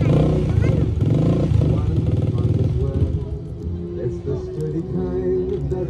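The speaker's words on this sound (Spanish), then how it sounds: "Le está calentando la moto, Santo." Motorcycle engine warming up on a street during a neighborhood holiday candy giveaway, a steady low rumble running throughout, with voices and crowd chatter over it.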